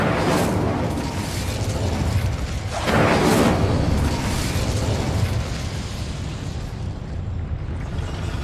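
The Incendio fire spell is cast in the Hogwarts Legacy video game, a roaring burst of flame that swells midway through a dense, rumbling backdrop of game sound effects.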